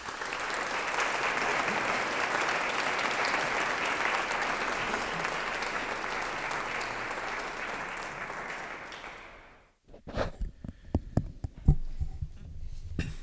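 Dense audience applause at a university master's closing ceremony in economic analysis fills the room for about ten seconds and then dies away abruptly. A few scattered claps and small knocks follow in the quiet.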